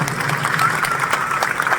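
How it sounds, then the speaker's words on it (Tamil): Parents at a college event give the staff and teachers a big round of applause, a brief, dense burst of steady clapping from a large crowd. "இங்கே இருக்கிற ஸ்டாஃப்க்கு எல்லாருக்குமே ஒரு பெரிய கைத்தட்டல் கொடுங்க"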